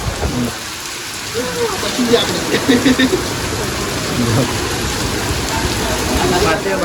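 Heavy rain falls steadily in Patan, a dense broadband hiss close by, with voices talking over it now and then.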